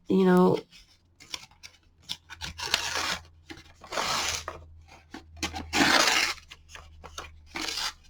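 Paper being torn up by hand for collage material, a run of quick ripping and crinkling bursts in irregular rhythm, close and fairly loud, with no talking.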